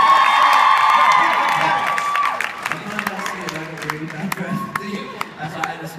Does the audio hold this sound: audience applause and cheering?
yes